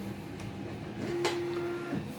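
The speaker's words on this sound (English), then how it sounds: "Oh, that's the printer." A printer running during a dolls house build, a mechanical whir with a sustained steady hum and a few clicks and clunks, fairly quiet in the background of a room with no talking.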